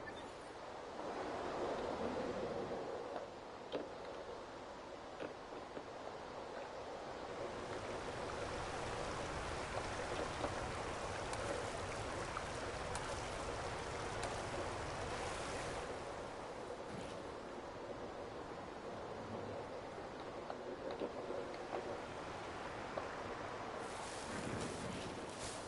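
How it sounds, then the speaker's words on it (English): A raging waterfall in a video game roars as a loud, steady rush of dense water noise that holds without a break for the whole stretch, with no voices. "This one's from complete silence to raging waterfall."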